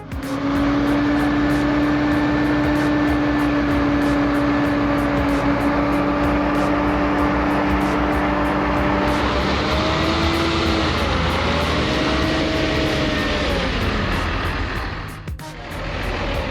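Massive tractors chained together strain to drag a truck stuck on a muddy, snow-covered road, their engines droning loudly with a sustained tonal hum that shifts in pitch near the end, then briefly cuts out.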